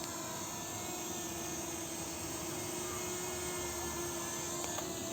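K90 MAX drone hovering in place and rotating, a steady high-pitched whine of spinning propellers droning evenly and continuously at a constant distance.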